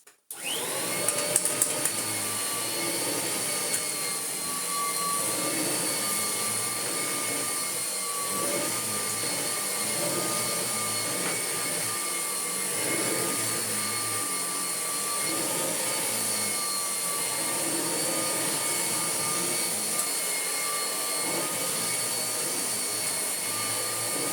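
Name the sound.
Kirby Heritage 1 vacuum cleaner cleaning a rug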